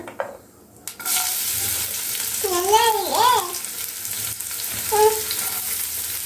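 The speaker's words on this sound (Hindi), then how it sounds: "सोरिषटा फुटी देखो सोरिष भी फुटिलानी" Mustard seeds splutter and crackle in hot oil with a continuous close sizzle, crossed by a couple of brief, high whistling tones.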